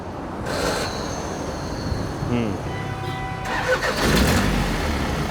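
A faulty, smog-emitting car engine cranks and fires up, rising into a loud, rough running rumble after a few seconds, with a person talking over it.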